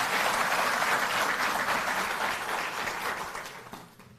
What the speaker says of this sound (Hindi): एक बार जोरदार तालियों से आप करें।